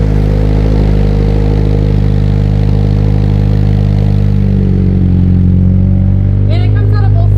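A 2022 Subaru BRZ with a new aftermarket exhaust idles deep and rumbling, rising slightly in a revving swell, with a clatter and brief chatter near the end.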